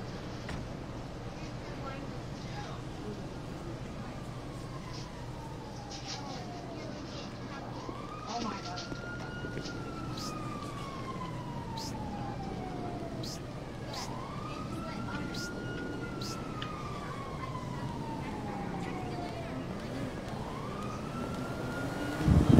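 An ambulance siren in the video game Grand Theft Auto V wails in slow, repeating rising-and-falling sweeps, moderately distant, over a steady low hum and faint background noise.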